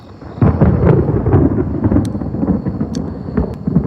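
Thunder from a mountain storm rolls in as a heavy, sustained low rumble that swells after a quiet start and stays loud, with a few sharp crackles over it and no speech.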